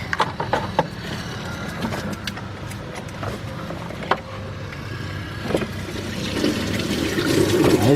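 Water drains steadily from the cooling system of a 2005 Chevy Express G2500 van with a 6.0 engine during a water pump replacement, a continuous close splashing rush with scattered clanks that swells louder toward the end.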